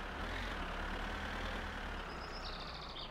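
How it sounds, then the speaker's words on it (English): Tractor engine in the driving game My Summer Car, a low steady rumble at moderate level with a faint whine rising near the end, no talking. "I'm riding a tractor for the first time in my life."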